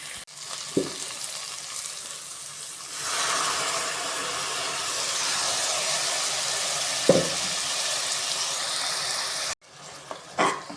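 Ground mint paste sautés with onion, tomato and green chillies in a pan for mint rice, giving a steady loud sizzle and hiss with a few sharp stirring clinks, then cutting off near the end.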